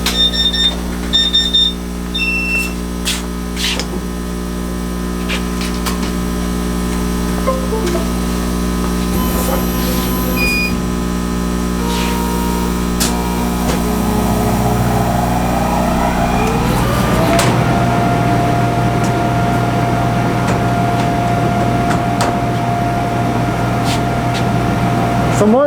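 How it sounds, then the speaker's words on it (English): The extractor of a CamFive CMA 5136 laser cutter runs with a loud, steady, industrial-vacuum drone that swells louder about two-thirds of the way through, after a few short electronic beeps at the start. "more than likely you're hearing all that noise, you know, from the extractor. Kind of sounds like a industrial vacuum cleaner."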